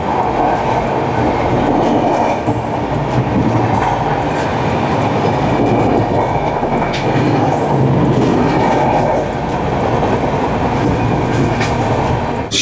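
The Sri Jagannath Express, 18409 from Shalimar to Puri, rolls loudly along the rails with a steady, dense rumble and clatter of wheels heard from on board, continuous and unbroken throughout.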